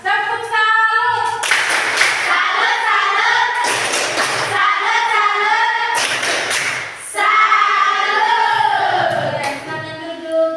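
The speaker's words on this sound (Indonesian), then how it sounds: "Tepuk salut." A classroom of Indonesian junior high students performs a rhythmic group clap, loud bursts of clapping arriving in distinct beats while children's voices chant along in between.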